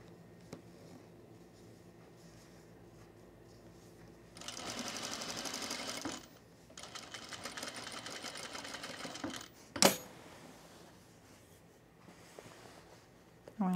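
A sewing machine runs in two steady bursts of rapid stitching while backstitching a seam on refashioned fabric, with a sharp click between stretches of quiet handling noise.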